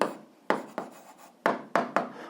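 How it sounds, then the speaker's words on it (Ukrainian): A pen writes an answer on paper in a few quick strokes, close and quiet, each scratch starting sharply and trailing off, with short pauses between bursts. "записуємо відповідь, пишемо відповідь"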